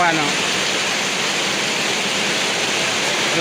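Floodwater rushing during heavy rain where a submersible pump cannot drain it, a steady dense roar of flowing water and downpour, loud and constant with no breaks.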